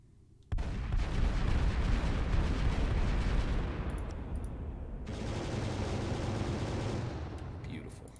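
Spaceship defense turrets in a sci-fi strategy game fire in a heavy, continuous barrage that starts abruptly, loud and sustained, with a brief shift midway before the fire resumes, while voices talk underneath.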